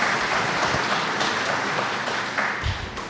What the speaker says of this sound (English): Let's give him a round of applause, folks.